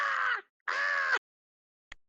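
A person imitating a bird call with the voice, two drawn-out, raspy caws separated by a short pause, followed by a faint click.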